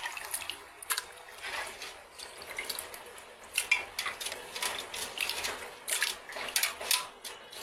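Water splashing and dripping while freshly cut meat is rinsed clean by hand, irregular close splashes and trickles with light clinks of a bowl or pan.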